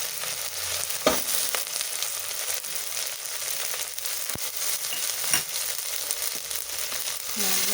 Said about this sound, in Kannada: ಶುಂಠಿ ಬೆಳ್ಳುಳ್ಳಿ ಪೇಸ್ಟು ಒಂದು 2 ಸ್ಪೂನ್ ಹಾಕಿ ಅದು ಚೆನ್ನಾಗಿ ಬಾಡಲಿ.